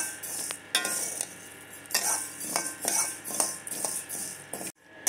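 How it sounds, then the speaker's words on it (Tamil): Slow-flame dry roasting for podi dosa powder, with a soft background sizzle and repeated, rhythmic metal spoon scrapes and clinks against the pan, fairly close, ending in brief silence. "ஸ்டவ்வை ஸ்லோ ஃப்ளேம்லேயே வச்சு கருகூடாமல் நல்லா சவக்க வறுக்கணுங்க."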